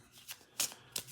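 Game cards from the Enemy Action: Ardennes board game riffled and shuffled by hand, a few soft bursty riffles close by with no one talking.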